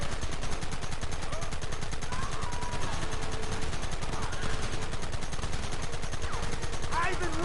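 Dense, continuous gunfire in the Western video game Red Dead Redemption, rapid overlapping shots rattling loudly throughout, with shouted voices breaking in over the barrage.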